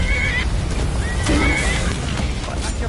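Horse whinnying in Skyrim, a rising whinny standing out amid continuous game ambience and clatter, moderately loud.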